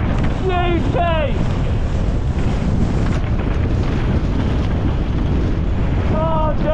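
Strong wind roars across the microphone while riding a mountain bike at a wet Welsh bike park, a loud, continuous buffeting rush, with excited voices shouting at the start and end.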